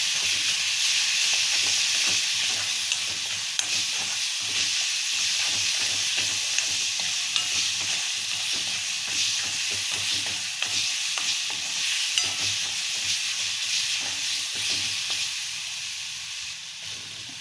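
Green chillies roasting in a pan for a Marathi-style cluster bean (gavar) dish, giving a steady, even sizzle and hiss throughout with faint stirring clatter, close and continuous.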